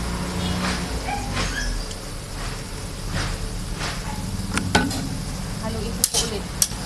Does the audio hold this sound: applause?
no